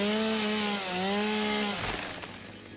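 A chainsaw in a factory-building video game cuts with a steady, loud engine whine that slides down in pitch, then drops into a rougher, fading grind near the end, with no talking.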